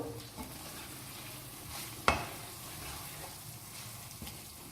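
Roasted eggplant cooks with spices in a pan, giving a steady soft sizzle and frying hiss with stirring and mashing scrapes, one sharp utensil knock near the middle, and no talk.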